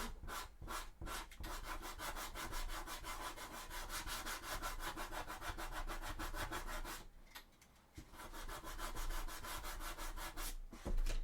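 Steady rapid back-and-forth sanding on a Warhammer 40K Sisters of Battle miniature's thigh armour, a dense scratchy rasping held close and loud for most of the stretch, with a brief pause before it resumes.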